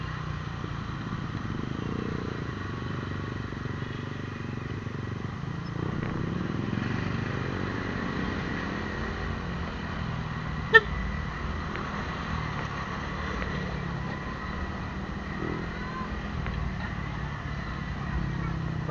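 Continuous street traffic with motorcycle engines droning and passing, one brief sharp click midway, and no clear talk.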